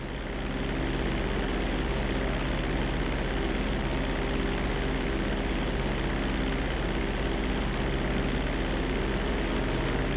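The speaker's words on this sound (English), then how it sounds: "We're gonna start with a basic takeoff. Hold the throttle all the way down to pick up speed, and pull back on the stick to take off." A fixed-wing airplane accelerating for takeoff in the video game GTA 5 during a flight lesson, with a loud, steady engine drone and propeller hum held constant throughout, no voices.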